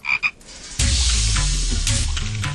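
Two short, close frog croaks sound first, followed by a loud, dense chorus of croaking frogs that keeps going steadily to the end.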